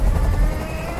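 Steady, loud rotor drone of a helicopter in the Detroit: Become Human video game, a continuous low rumble throughout with no speech.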